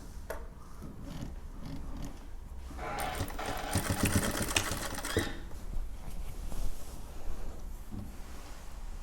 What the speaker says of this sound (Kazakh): Және соны бастырып тігіп жіберуіңіз керек.